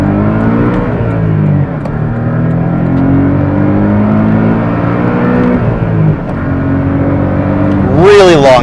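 Engine of a 2024 Porsche Cayman S pulling hard in first gear onto a highway, a loud steady rising drone with layered harmonics, a brief dip near the middle and a sharp high whine at the end.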